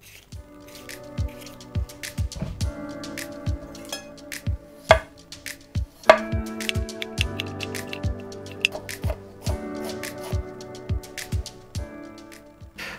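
Knife chopping potatoes finely on a board while making Korean corn dogs, a series of quick, close, sharp taps in uneven bursts with a few louder knocks and faint kitchen clatter.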